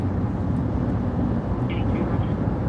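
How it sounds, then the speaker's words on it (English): News helicopter flying overhead in a city, a steady rumbling rotor and engine drone that stays constant with a faint chirp in the middle, under background sound. "No, is that a news chopper?"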